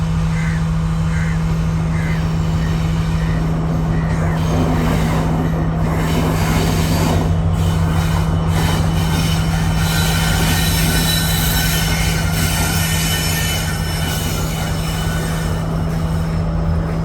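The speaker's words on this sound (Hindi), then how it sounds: "कोलंबो पोर्ट स्टेशन पर एक और ट्रेन का अराइवल हो रहा है" A long intercity train rolls into Colombo Port station in Sri Lanka with a constant heavy rumble, steady hum and screeching wheels, carriages clattering past close by for a sustained stretch.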